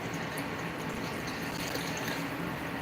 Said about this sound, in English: That should be all the water that we're going to need right here going in